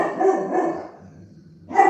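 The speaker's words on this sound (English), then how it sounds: "You hear that dog barking?" A dog barks close by, two quick barks followed by a pause, then another bark.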